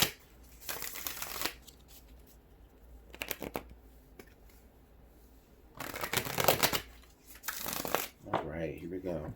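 A deck of tarot cards is shuffled by hand in several loud riffling bursts separated by quiet pauses, close up, with a voice speaking at the end.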